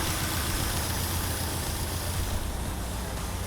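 A Nissan 180SX Type X with an SR20DET engine idles steadily and loudly up close while misfiring, a continuous dense rumble with no speech.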